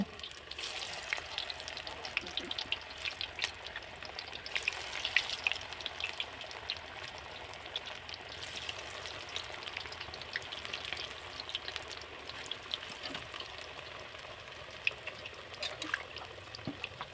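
Bok flower fritters, hand-shaped and frying in hot oil in a village kitchen, give a steady close bubbling sizzle with scattered crackles and pops throughout, with no talking.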